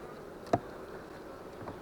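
Honey bees buzz inside a hive at an apiary left untended for two years, a soft steady drone with one brief, sharper buzz passing close by.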